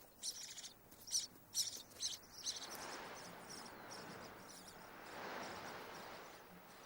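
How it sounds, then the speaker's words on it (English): A black-billed desert finch in an arid red desert gives a series of short, high, bright chirps in quick succession early on, followed by a soft, faint hiss of open air. "The black-billed desert finch can survive without water, getting all its nourishment from seeds."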